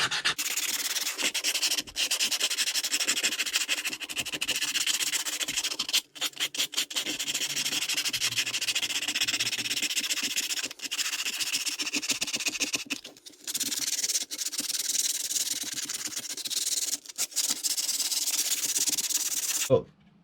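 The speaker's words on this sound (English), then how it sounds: "this is coming along pretty nice with hand sanding" Repeated hand sanding up close, long rasping strokes of sandpaper on wood with a few brief pauses, steady and fairly loud, no voices.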